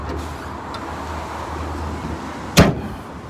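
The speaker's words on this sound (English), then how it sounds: "We just pop the bonnet down." A long-wheelbase high-top van's bonnet is shut with a single sharp slam near the end, following a few seconds of low background road noise.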